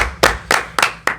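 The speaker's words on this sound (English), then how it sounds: "So round of applause for them." Audience round of applause at a development summit, heard here as four distinct, evenly spaced hand claps close up, sharp and loud with brief gaps between them.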